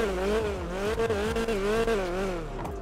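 A modded car in GTA 5 turns over and its engine settles into a loud, close, wavering rev, pitch rising and falling for a few seconds before cutting out.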